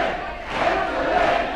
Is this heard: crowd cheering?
yes